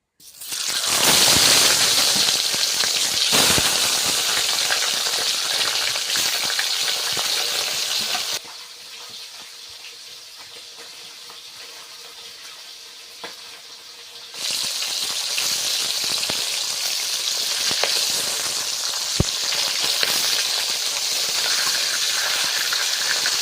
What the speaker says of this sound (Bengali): তেলটা গরম হয়ে গিয়েছে ভালোভাবে এবার মাছটা আস্তে আস্তে দিয়ে দেবো